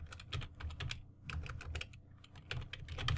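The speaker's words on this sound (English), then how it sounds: "So let's type it, Whois" Rapid, uneven clatter of typing on a computer keyboard, close and fairly quiet, keystrokes coming in quick bursts with short pauses and no voices.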